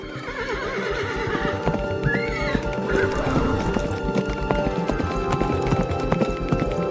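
A cartoon horse gallops with brisk, rapid clip-clop hoofbeats and lets out loud neighs and whinnies, all continuous and close throughout.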